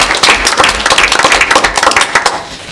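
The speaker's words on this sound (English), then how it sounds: "Tom Deserves applause." Applause at a city council meeting in Detroit Lakes, a dense burst of clapping filling the room for a couple of seconds before thinning slightly at the end.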